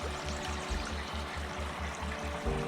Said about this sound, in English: And then it looks like there's a creek flowing underneath it.